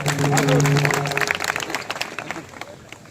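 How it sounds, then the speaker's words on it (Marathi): A crowd at a Hanuman Chalisa gathering claps for a participant, the applause rising under a sustained tone and voices, then thinning into scattered claps. "टाळ्या वाजवा तिच्यासाठी."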